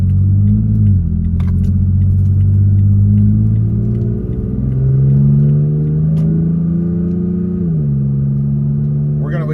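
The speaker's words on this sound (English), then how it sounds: "We're going to accelerate up to 55, and then we're gonna cruise." A Toyota Tacoma with a new exhaust accelerates, its engine rumbling loud and close as the pitch climbs steadily through gear changes, with a brief dip before it rises again.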